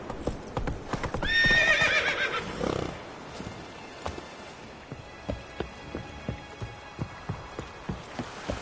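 Roach, a horse in The Witcher 3 video game, gallops with steady, evenly spaced hoofbeats after a loud whinny near the start; the clopping continues alone at moderate volume.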